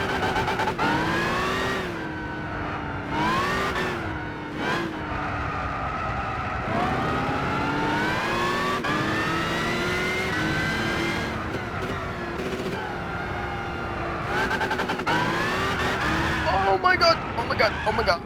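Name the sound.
Challenger RT car engine revving in video game Gran Turismo 6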